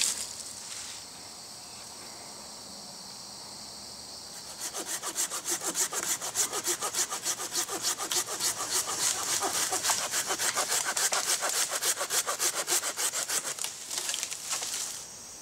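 A hand saw cuts through brush and wood in a hunting area being trimmed out before deer season, with a long run of steady, rapid back-and-forth strokes starting after a quiet opening and continuing close and loud to the end.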